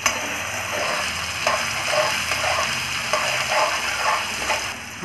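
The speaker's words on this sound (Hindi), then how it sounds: "प्याज को पहले फ्राई करेंगे।" Chopped onions fry in a pan for a Rajasthani besan gatte curry, a steady loud sizzle with stirring scrapes rising and falling throughout.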